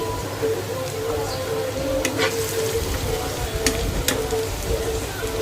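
Amaranth leaves cooked as a mock liver fry are stirred slowly in a pan, giving a steady soft sizzle with scraping and stirring textures throughout, close and moderately loud, with no voices.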